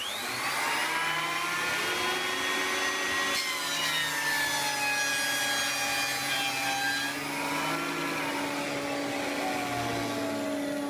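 A cutting machine fitted with K05/K01 cutter blades works through wood, a steady whining drone with gliding pitch that holds close and loud for about eleven seconds, no voices.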